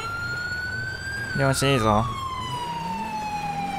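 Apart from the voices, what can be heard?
police car siren in GTA5 video game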